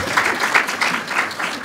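Audience applause at a panel discussion, steady clapping from a crowd throughout the short burst, fairly loud and close.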